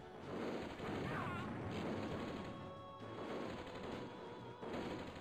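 Gunfire in Commandos 2 (2001, HD Remaster 2020), a few sharp shot bursts over a dense layer of game noise and music, with short pauses between loud stretches and no clear speech.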